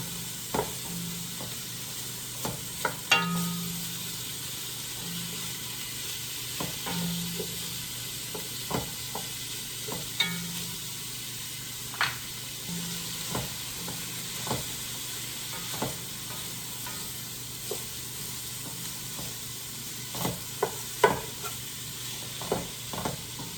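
Sausages and carrots fry in a pan with a soft, continuous sizzle, broken by a steady series of scraping stir strokes and clinks spread across the stretch, with no voices.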